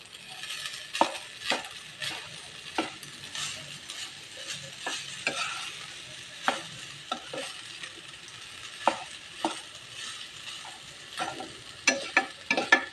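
Sinangag, Filipino garlic fried rice, stirred and tossed in a pan, with repeated sharp scraping clacks of the utensil against the metal over a faint steady sizzle, close and irregular.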